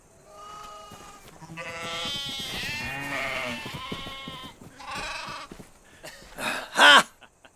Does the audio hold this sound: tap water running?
no